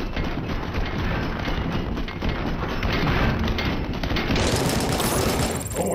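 Gunfire in the RoboCop: Rogue City video game on PS5: loud, dense, continuous bursts of shooting that roll on without pause for the whole stretch, heavy and close.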